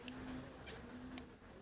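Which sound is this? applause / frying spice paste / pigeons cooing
pigeons cooing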